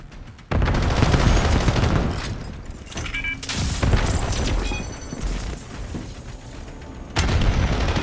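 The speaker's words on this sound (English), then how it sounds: "Grenade incoming!" A grenade explodes during a Call of Duty Black Ops 7 beta match, a loud booming blast followed by a dense wash of gunfire and further heavy bursts, close and sustained.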